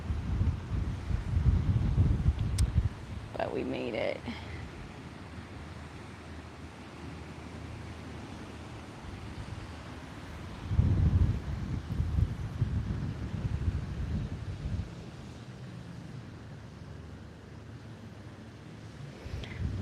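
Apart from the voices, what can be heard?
wind blowing at the beach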